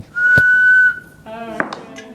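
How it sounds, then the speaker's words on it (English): A handmade whistle gives one long, steady, clear tone, loud and close. A lower, buzzier tone follows, and a voice is heard briefly around it. "So the bigger the whistle, the deeper the whistle sound?"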